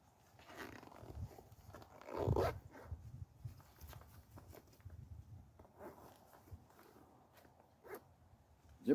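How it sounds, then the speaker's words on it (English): A zipper pulls closed on a Prepared Citizens Minuteman IFAK medical bag. It gives a few short, close rasping strokes over quiet room noise. "Zipper up."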